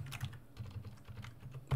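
Fingers type on a computer keyboard while code is entered, producing a run of close, irregular clicks with a louder burst of keystrokes near the end.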